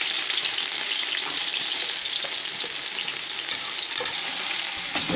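Chopped onions frying in hot oil for beef yakhni pulao, a steady, bright crackling sizzle that runs close and even throughout with occasional small pops and no talking.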